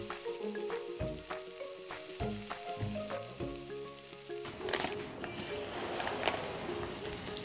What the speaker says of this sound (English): Stirring the butter in the oil so that it doesn't burn